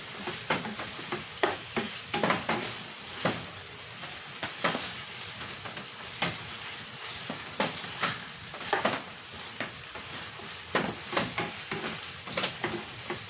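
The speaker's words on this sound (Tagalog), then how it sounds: "Hinalo na rin natin yung liver spread para mas malasa." A spatula scrapes and clatters rhythmically through a sizzling beef kaldereta in a pan as liver spread is worked in, with repeated sharp strokes over a steady frying hiss, close and clear with no voices.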